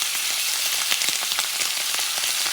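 A steak fries in a pan with butter and garlic for Puerto Rican filete. It gives off a steady, dense sizzle with close crackling spatters and no voices.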